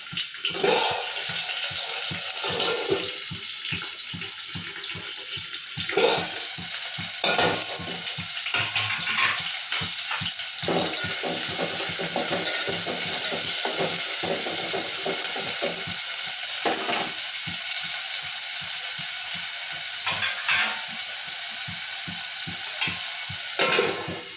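Chopped onions sizzle and fry in a pan for bagara rice while a spoon stirs them, producing a constant bright frying hiss punctuated by repeated scraping and clattering strokes, close and loud.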